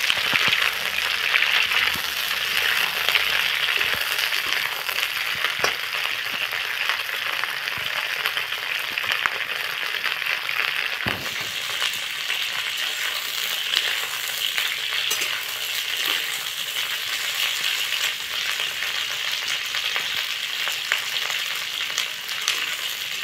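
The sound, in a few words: cauliflower frying in a pan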